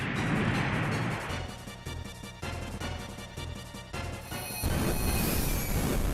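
An egret missile launcher attack in Front Mission plays as a loud, crunchy explosion followed by a series of rapid impact bursts and a closing blast.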